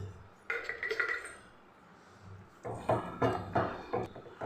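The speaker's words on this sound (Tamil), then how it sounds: "நல்லா இப்போ கலக்கி விட்டுக்கலாம்" A utensil scrapes and knocks around a pot of water with a little turmeric, a brief stir, a pause, then several rhythmic strokes close by.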